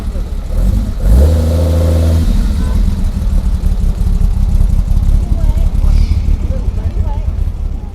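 Jaguar Series 1 fixed head coupe at a Brooklands club meeting, engine revving loudly up close, then a steady throaty run as it pulls away, with people talking over it.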